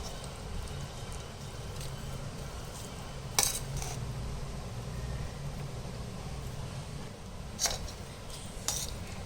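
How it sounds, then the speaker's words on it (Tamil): Lemon rice with podi is stirred in a pot, with soft scraping and a few sharp clinks of a utensil against the metal over a low steady background hum. "இப்போ இது நல்லா நம்ம கிளறி விட்டுக்கலாம்."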